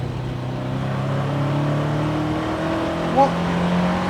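An older car with a 1600 engine and a handling kit drives and accelerates, its engine note rising smoothly and holding steady near the listener, with a brief spoken word near the end.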